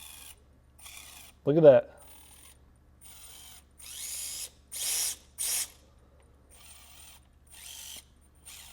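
An SCX24 RC crawler's ISO axle with a Trill overdrive worm gear in front spins in short buzzy mechanical bursts, whirring and ratcheting on and off against near silence, with a brief spoken remark.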